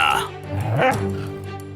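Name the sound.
dog barking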